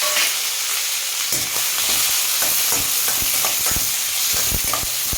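Onions sauté in hot oil with mustard seeds and cumin, giving a bright, close, continuous sizzle broken by frequent scraping and clattering from stirring.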